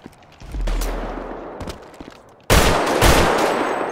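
Gunfire in a video game: a dense, sustained burst of shots with a sharp louder volley starting midway, continuous rapid fire without talk.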